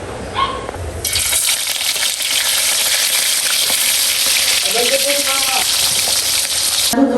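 Dried fish frying in a pan gives a sudden loud hiss and sizzle that starts about a second in and holds steady before cutting off, with brief voices in the background.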